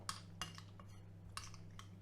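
A spoon stirs apple compote in a bowl for a tart, giving a few sharp clinks against the dish over a steady low hum, with quiet scraping between the taps.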